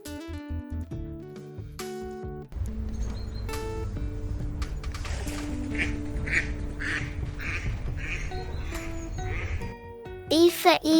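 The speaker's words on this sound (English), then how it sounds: "D for duck." A cartoon duck quacks several times in a row over bright children's alphabet music, with a voice speaking between the sounds.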